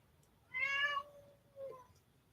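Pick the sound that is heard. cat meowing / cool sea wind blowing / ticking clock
cat meowing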